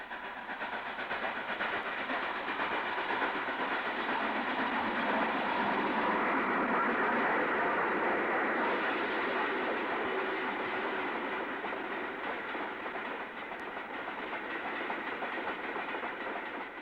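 War Department steam locomotive WD 90200 rolls along the rails near Darlington with a steady, sustained rumble and faint clattering, holding at a constant distance throughout without any voices.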